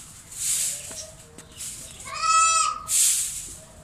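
A black, pregnant Beetal goat nearby lets out one clear, wavering bleat midway, surrounded by soft breathy noises and quiet farmyard background.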